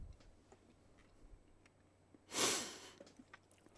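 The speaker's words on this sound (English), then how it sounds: "Oh, sorry, I cough." A single short cough bursts out close to a microphone in an otherwise quiet room, with faint ticking and breathing noise around it.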